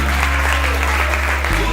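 Audience at a children's symposium applauding, dense continuous clapping over a low hum from the hall.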